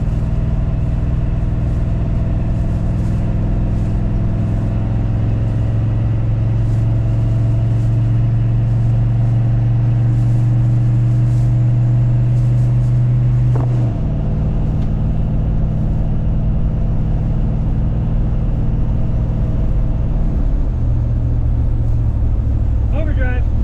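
A Chevy C30 squarebody truck fitted with a swapped 4L80e transmission cruising at about 45 mph in overdrive, a loud steady low engine drone inside the cab that shifts pitch once midway, with someone talking over it.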